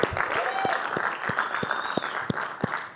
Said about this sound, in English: Another round of applause for Equal.